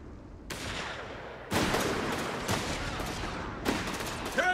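Mortar blasts and gunfire ring out in a Company of Heroes 3 Italian campaign battle, several sharp booming explosions with rolling tails and scattered shots, loud and close, plus brief game voice sounds near the end.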